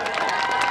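Crowd of children at a Gyalpo Losar program clapping their hands together, a dense, steady patter of many claps mixed with cheering voices, loud and close throughout.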